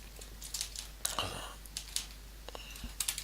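A computer keyboard is typed on in short, uneven bursts of sharp, close clicks, with a brief rustle partway through and a low steady hum underneath.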